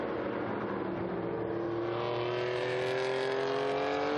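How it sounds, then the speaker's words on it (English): Historic Porsche race car at the Estoril Classics sweeping past on track, its crisp engine note rising and holding as a loud, steady high-revving roar throughout. "Through come the Porsche, sounding really crisp."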